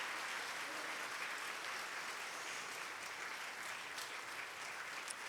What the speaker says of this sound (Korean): 우리 인사할 때 한번 큰 박수로 축복해 주십시오